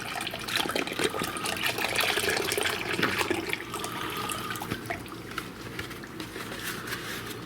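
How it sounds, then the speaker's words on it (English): Beef broth poured into a crockpot, a continuous gurgling, splashing stream that is loudest at the start and then settles into a softer trickle, close and with no talking. "we're going to mix in some liquids. We got about 3 cups of beef broth here."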